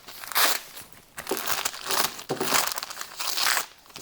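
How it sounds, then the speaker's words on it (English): Paper backing being pulled and torn away from machine-stitched fabric, a series of close crinkling, ripping bursts in uneven pulls, fairly loud with brief pauses between tears. "So you remove the paper"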